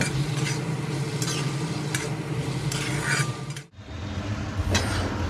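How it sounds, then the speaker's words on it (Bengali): Shrimp stirred with salt and turmeric in a hot pan, a steady loud sizzle under repeated scraping and clinking of a utensil, with a brief pause before the frying and stirring resume. "একে একে চিংড়ি মাছ, সামান্য লবণ ও হলুদ গুঁড়ো দিয়ে খুব ভালোভাবে নেড়ে চেড়ে প্রায় মিনিট 3 সময় ধরে কষিয়ে নেব।"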